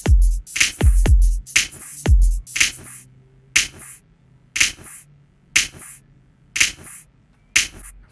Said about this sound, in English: we want a bit of a flam on the second snare hit